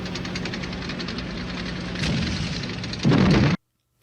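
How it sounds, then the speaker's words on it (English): A PIAT anti-tank weapon fires in a war film battle scene: a dense, continuous rumble of explosive blasts and gunfire that swells near the end into a loud close burst, then cuts abruptly to silence. "In the scene, the PIAT gunner opens up way too soon"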